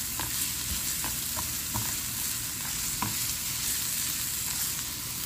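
Onions and peppers sizzle steadily in a pan as they fry, with occasional soft clinks and scrapes of stirring; no talking.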